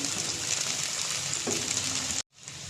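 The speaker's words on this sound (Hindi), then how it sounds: "ये भी इसके साथ फ्राई हो जाएंगी।" Three or four green chillies frying with browned onions for an egg biryani masala, a steady close sizzle and crackle that cuts off briefly near the end before resuming.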